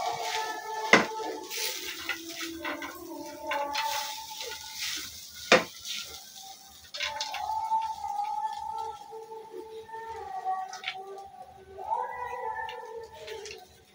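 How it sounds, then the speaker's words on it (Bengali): A spiced roll filling is stirred in oil in a pan, with clinking utensil scrapes against metal and sharp knocks over a faint sizzle, plus several tonal cat-like meows in the background. "এখন আমি সব উপকরণ ভালো করে এই তেলের উপর একটু মিক্স করে নিচ্ছি"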